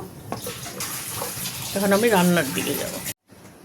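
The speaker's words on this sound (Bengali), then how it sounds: "এটা গরম থাকা অবস্থায় আমি অল্প একটু পানি দিয়ে নিচ্ছি" Water runs and splashes into a pot of hot mashed dal for a couple of seconds, with a brief faint voice before it, ending abruptly.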